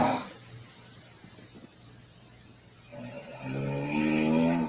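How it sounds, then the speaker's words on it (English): A girl snoring: a quiet stretch of breathy noise, then a louder nasal snore building and sustaining toward the end, close and alone. "Me snoring in Maine."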